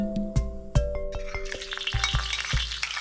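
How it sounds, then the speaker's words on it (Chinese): Scallion, ginger and garlic stir-fried in a little oil in a wok, sharp metallic spatula clanks at a rough beat over a hiss that swells into a fuller sizzle partway through. "锅内呢，我们就留少许底油，然后加入葱姜蒜爆香。"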